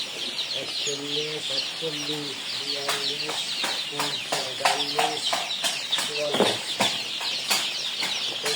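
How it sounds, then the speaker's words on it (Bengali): Several Tiger breed chicken chicks cluck in short repeated calls close by, mixed with sharp pecking taps and faint voices in the background. "টাইগারের বাচ্চা টাইগার মুরগির বাচ্চা"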